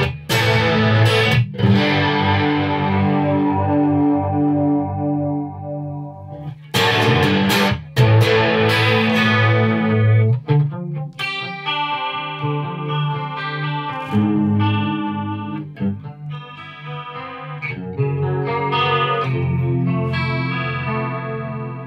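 Electric guitar through a Corona Chorus pedal running a TonePrint setting with added overdrive, shimmering modulated chords ringing out and decaying, punctuated by sharp strums, loud and upfront with no talking.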